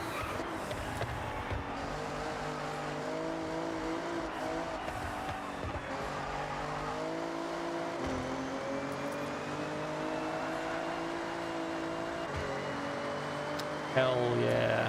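A car driven in the racing game Forza Horizon 6, set in Japan, with a steady engine drone and tire noise running throughout, plus a brief louder burst near the end.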